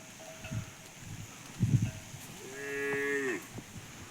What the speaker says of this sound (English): Another cow is coming here.